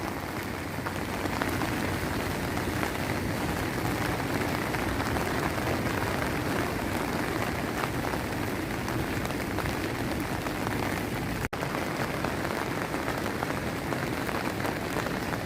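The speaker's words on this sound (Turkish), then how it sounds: "Yağmura yakalandım." Steady rain patters densely on a surface in Giresun, an even hiss that continues throughout with one brief click near the end.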